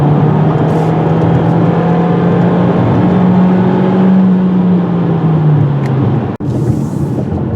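A 2018 Hyundai Kona's 175-horsepower engine pulls steadily under acceleration at high altitude, a continuous droning hum with a slowly rising and falling tone, up close and alone, with a brief sharp knock near the end.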